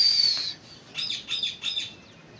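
Pet pigeons, male and female released together, flying about with a bright chirp at the start and then three short bursts of fluttering, twittering sound that swell and fade, close and clear with no talking.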